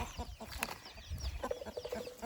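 Chickens clucking in a hill village, a few scattered clucks and short calls at moderate distance over a faint outdoor background, with no one speaking.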